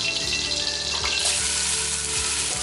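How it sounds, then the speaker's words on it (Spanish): Leek frying in hot oil and butter gives a steady, close, bright sizzle that runs without a break and has no talk over it. "ya está caliente el aceite, entonces vamos a poner ya nuestro puerro"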